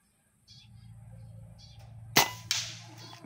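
An RTI Priest air rifle fires at a 50-meter range. A sharp, loud crack is followed moments later by a second, fainter snap over a quiet background.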